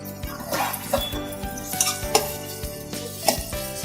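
Ginger garlic paste frying with golden-browned onions in a pan for pav bhaji, a steady close sizzle broken by repeated scrapes and clinks of a spoon stirring against the metal.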